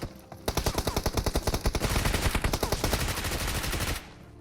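Rapid automatic gunfire in PUBG, a loud close burst of evenly spaced shots running for about three and a half seconds before stopping abruptly.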